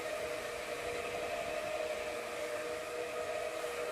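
Bonnet Pro rotary carpet cleaning machine running steadily, a loud continuous motor drone with a strong tonal hum and broad whooshing noise, close and unchanging throughout.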